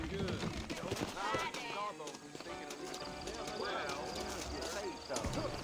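Hooves clip-clop steadily from horses in the video game Red Dead Redemption, a rhythmic patter running under continuous spoken dialogue, with the occasional sharp crack mixed in.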